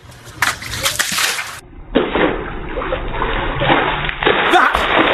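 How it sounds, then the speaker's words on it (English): A bucket of water thrown in a splashy burst, followed by sloshing and dripping water that carries on for several seconds, fairly close and loud with background noise. "That is how you throw a bucket of water at"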